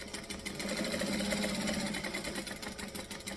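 A sewing machine back stitches and then runs along the top edge of a Coddiwomple sewing project, giving a steady close mechanical whir with a faint rattle that holds for several seconds.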